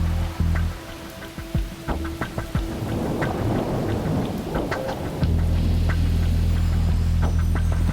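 Heavy rain pours steadily while thunder cracks and rumbles loudly nearby, forming a dense, continuous storm sound with no voices.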